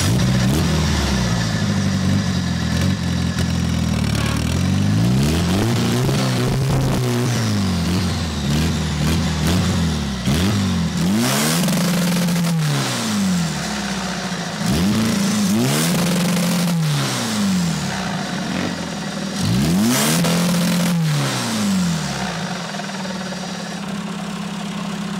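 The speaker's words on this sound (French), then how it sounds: "Est-ce que tu peux nous mettre 2 petits coups de gaz pour voir un peu ce que ça donne niveau sonorité?" A modified Volkswagen Golf 7 R tuned past 600 horsepower is revved repeatedly in loud, close blips, the engine climbing and falling back to idle roughly half a dozen times at a Run400 event in Saint-Joseph, Réunion.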